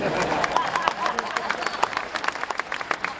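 Comedy club audience at a stand-up show breaks into loud applause and scattered shouts that fade into sparser clapping, with a voice murmuring over the end.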